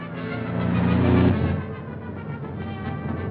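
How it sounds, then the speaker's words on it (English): Car engine in a 1937 film scene, a motor rumble that swells to a peak and then settles into a steady lower drone as the vehicle follows behind. "There's a car following us."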